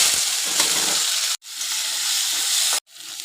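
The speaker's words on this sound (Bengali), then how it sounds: "এরপর আমি কড়াইয়ের মধ্যে সর্ষের তেল দিয়ে পনিরগুলোকে ভেজে নেব।" Salted, turmeric-coated paneer fries in mustard oil in a kadai with a loud, close, continuous sizzle and hiss, cut off twice by brief silences.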